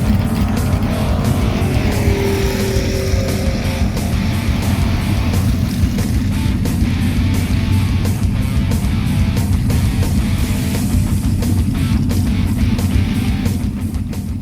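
A 1993 Ford Crown Victoria making a drag racing pass at Grove Creek Drag Strip in Minnesota, a loud sustained engine roar with dense low rumble and wind buffeting that holds steady throughout, with no voices.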